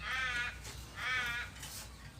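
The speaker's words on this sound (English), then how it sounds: "So I think that was a magpie." A magpie calls loudly outdoors near a porch, two harsh raspy bursts about a second apart, close and prominent over quiet background hum.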